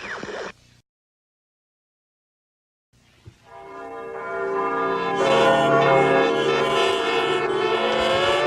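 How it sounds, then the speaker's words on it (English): Loud ringing bells warning a city to evacuate, with rich sustained overtones, building from a brief sound and a silence into a dense, continuous clangor, in a radio play. "The bells you hear ringing are to warn the people to evacuate the city"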